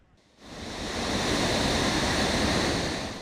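Ocean waves surge onto a shoreline where rubbish and broken blocks are piled against encroaching sea, a loud, sustained broadband roar that swells in after a brief quiet start and holds steady with no voices.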